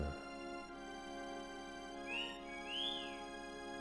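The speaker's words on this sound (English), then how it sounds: "Listen to those calming R2 whistles." R2-D2 droid whistles from a Star Wars video game, two short rising and falling electronic chirps over a steady musical drone, fairly quiet.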